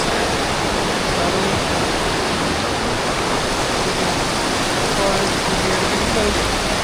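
Water rushing steadily at Sada Waterfall, a dense, constant roar close by with no letup, broadband and loud throughout.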